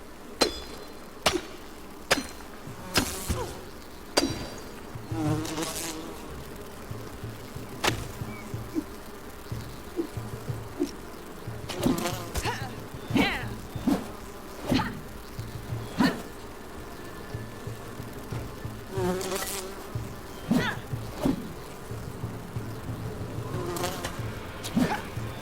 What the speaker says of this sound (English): The only way to get rid of those bees is by attacking them.